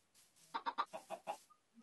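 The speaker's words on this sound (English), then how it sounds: "Look, two chickens." Minecraft chickens clucking in a quick run of about six short, close clucks over a quiet background, followed by a couple of faint, thin chirps.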